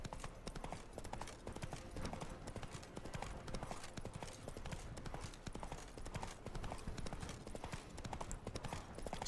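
A horse gallops in The Witcher 3, a rapid, continuous clip-clop of hoofbeats with a steady driving rhythm, fairly quiet but constant across the whole stretch.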